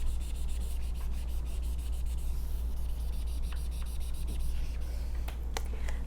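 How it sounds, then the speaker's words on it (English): A dry erase eraser rubbing across a whiteboard in a classroom lesson, a steady, fairly soft continuous scrubbing with quick back-and-forth strokes under a constant low hum. "I'm just going to use our dry erase eraser, and we're going to erase this"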